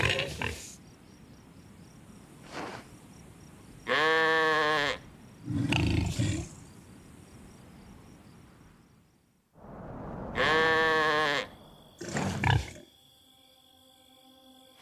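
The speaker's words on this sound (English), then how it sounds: "the sheep are complaining they haven't been sheared" Sheep in summer heat, waiting to be sheared, give several long, loud wavering bleats in separate bursts with quiet gaps between them, close by and with no talking.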